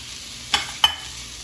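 About two tablespoons of garlic sizzle in a hot pan with a steady, faint hiss, broken by two quick scraping clicks close by.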